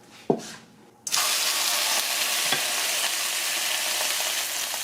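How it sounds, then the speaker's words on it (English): Steak hits a hot non-stick pan after a brief clunk, bursting into a loud, steady sizzle and fry that carries on evenly without talk. "Oh man, here's the sizzle."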